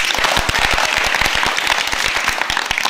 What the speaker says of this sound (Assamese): বহুত ডাঙৰকৈ এবাৰ হাত চাপৰি বজাই দেচোন